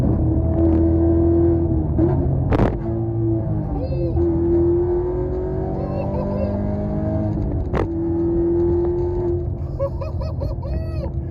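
A Camaro SS V8 running E85 with heads, cam and LT2 manifold drones steadily under load, its pitch slowly climbing through the gears, with two sharp clicks and a voice speaking faintly over it.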